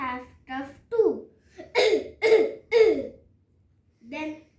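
A voice imitates a series of coughs while telling a Peppa Pig story, giving about four or five close, loud bursts in a row between short spoken phrases.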